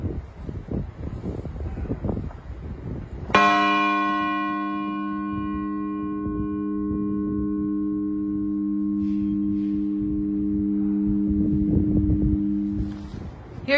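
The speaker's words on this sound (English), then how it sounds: "I'm going to lift it up and pull it against the bell." A single loud strike of a tolling hammer on a large church bell in a tower rings out and hums for many seconds, slowly fading, with rustling and handling noise before the blow.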